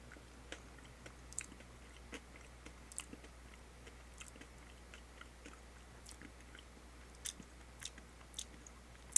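Someone eating the speckled cream of a Firework Oreo cookie by itself, giving soft, sparse chewing and mouth clicks close to the mic in a quiet room, with no talking.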